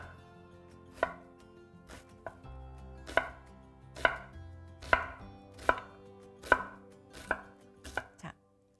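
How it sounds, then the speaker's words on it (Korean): An onion thinly sliced with a knife on a cutting board, about ten crisp, sharp chops at an uneven pace, close and clear with quiet between strokes. "양파는 얇게 썰어서 바이트 사이즈입니다"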